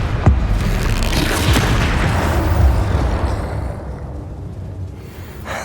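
A Confringo fire spell explosion in Hogwarts Legacy: a heavy booming blast that rumbles loudly at once, then rolls and fades over several seconds into a quieter tail with a faint pop near the end.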